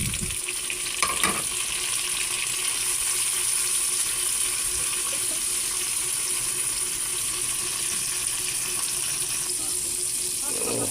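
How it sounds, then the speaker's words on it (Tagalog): Tomatoes for Filipino-style monggo sizzle steadily in a pan, a continuous close frying hiss with a few brief stirring knocks near the start; a voice speaks faintly beneath. "Yan, lagay na natin ang ating kamatis."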